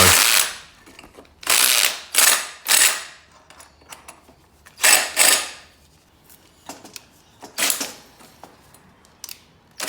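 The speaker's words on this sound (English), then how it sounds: "I'm just cutting a hole out onto my manifold" A hole saw cutting into the exhaust manifold of a Holden HZ project car gives off repeated short, harsh grinding bursts, each fading quickly, with brief pauses and scattered clanks between them.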